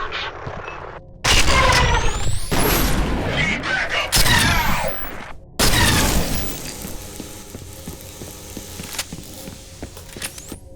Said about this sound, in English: It fires energy bolts that can turn enemies into skeletons.